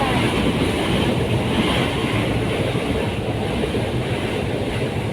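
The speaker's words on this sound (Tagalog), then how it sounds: "Ayan na naman ang train." A train rolling past near a park on its way to Cubao, a steady loud rumble with rhythmic clickety-clack from the wheels on the rails, close and continuous with no talking.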